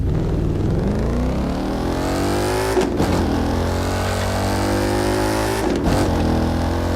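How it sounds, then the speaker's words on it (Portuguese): Ford Mustang in the racing video game The Crew 2, its engine revving hard with a thin, motorcycle-like whine, rising steadily with two sharp gear-shift breaks, loud and continuous. "Mas isso não é barulho de Mustang, velho. Isso é barulho de moto, cara."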